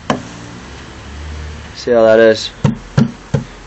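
Honeybees being knocked off a crowded hive frame in a garden: someone speaks briefly, then three sharp, close knocks follow in quick succession.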